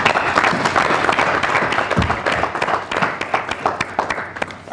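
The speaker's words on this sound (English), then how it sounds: "They deserve a round of applause for a job well done" Hearty applause from an audience at the launch event of an economic report on Africa, with sharp individual claps standing out in a steady patter that loosens and fades toward the end.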